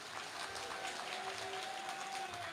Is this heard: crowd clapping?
yes